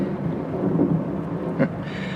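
Thunderstorm with heavy rain as a radio drama effect: a low rumbling roll of thunder over a constant rain wash, with a brief crack near the end and no speech.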